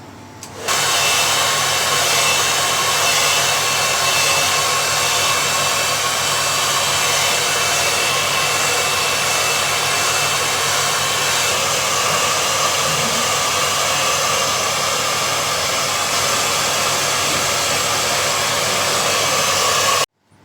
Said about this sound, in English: now what we're going to do is blow dry and shape and then touch up any cut where needed